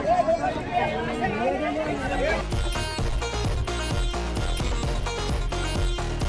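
Passengers chatter in a packed bus in India, a steady babble of overlapping voices and engine rumble, with a nearer voice speaking at the start.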